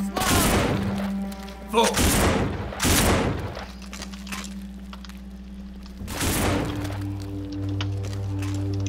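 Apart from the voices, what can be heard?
Smith & Wesson pistol firing in No More Room In Hell video game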